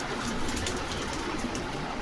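Pigeons coo softly among a busy, noisy background at a pigeon market in Bogura, their low calls faint and blended into the steady crowd din.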